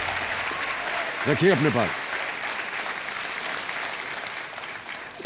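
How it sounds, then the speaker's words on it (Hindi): A quiz show studio audience applauds continuously as a dense wash of clapping, while a host's voice speaks briefly over it near the start. "तालियां बजती रहे देवी और सज्जनों"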